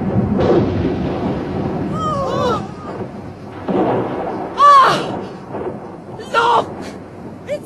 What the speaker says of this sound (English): Hare has been struck by lightning!